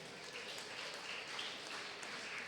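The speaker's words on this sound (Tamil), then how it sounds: "உங்களது கைத்தட்டலோடு அழைக்கிறேன்" Audience applause at a Tamil New Year special debate event welcoming the final speaker, a dense continuous clapping of a crowd, steady throughout with no break.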